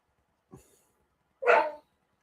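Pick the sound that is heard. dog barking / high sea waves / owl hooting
dog barking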